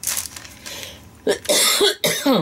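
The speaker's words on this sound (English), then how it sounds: "Got a little bit of a cough this morning." A few short, harsh coughs in quick succession, close by, after a quiet stretch with faint background noise.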